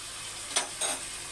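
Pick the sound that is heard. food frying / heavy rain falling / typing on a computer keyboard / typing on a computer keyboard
food frying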